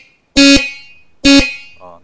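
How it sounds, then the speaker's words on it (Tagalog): Two loud, blaring blasts from a new German-made car horn being tested, each about a quarter second long with a short decay, followed by a faint tone at the end. "Ito po mga busina nito, German technology."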